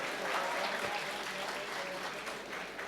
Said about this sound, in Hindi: अगर ये बात गलत है तो ताली बजाकर इस्तकबाल कीजिए।